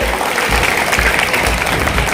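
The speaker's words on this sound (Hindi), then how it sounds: "भेंट देते हुए अब्दुल को जोरदार ताली बजाइए" Audience applause at a school award ceremony at Adarsh Madhya Vidyalaya in Kheria, Korha, Katihar: loud, dense, continuous clapping from a gathered crowd, with swells throughout.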